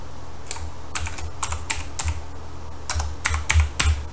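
Keystrokes on a computer keyboard entering a password, about a dozen crisp clicks in uneven bursts with a short pause midway, close and clear with no voices.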